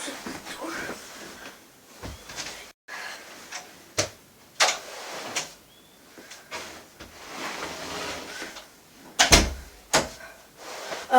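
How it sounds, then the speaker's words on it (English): A door closes in a room at home, giving a few dull thuds and clunks amid handling noise and shuffling, close by and moderately loud. "Let's close the door."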